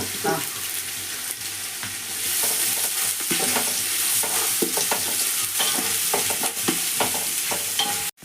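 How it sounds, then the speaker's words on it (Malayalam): Onions sautéing in a hot pan give off a continuous sizzle, broken by repeated scraping and stirring strokes. The sound is close and fairly loud, with no voices. "അപ്പോൾ ഉള്ളി ഇങ്ങനെ വാടിക്കൊണ്ട് നിൽക്കുകയാണ്"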